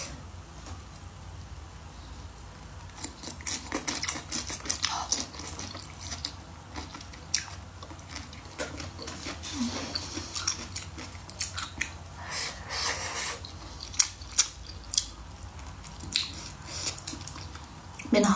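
Braised pork trotters with blistered green peppers, chili preserved eggs and spicy tofu being eaten mukbang-style, with close, wet, squishy chewing and smacking that continues steadily without speech.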